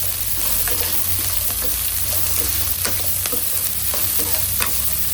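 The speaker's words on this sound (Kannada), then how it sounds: "ಒಗ್ಗರಣೆಗೆ ಹಾಕಿ ಮೊಗ್ಸಿದ್ರೆ ಚೆನ್ನಾಗಿ ಬರುತ್ತೆ. ಈರುಳ್ಳಿಗೆ ಮೊಗ್ಗುತ್ತೆ ಚೆನ್ನಾಗಿ." Onion and green chilli fry in an oil tempering with salt, along with green peas, a steady close sizzle under repeated scraping stirs that runs without a break from start to finish.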